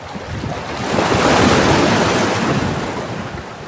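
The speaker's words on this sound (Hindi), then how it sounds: "साथियों, लहरें तेज़ हो रही हैं।" Ocean surf crashes and roars steadily in a broad wash that swells and then eases, loud and continuous, with wind buffeting the microphone.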